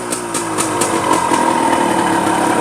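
Yamaha RXZ two-stroke motorcycle idling on a hot day: a steady, close, buzzy engine with a faint rising tone midway and a continuous rough rattle throughout.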